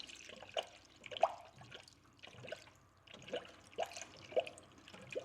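Fresh red Penrite coolant pours into the cooling system of a first-generation Toyota 4Runner, giving faint, intermittent trickles and drips spread across several seconds, with no talk over them.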